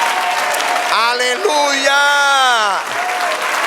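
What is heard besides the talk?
congregation applauding in church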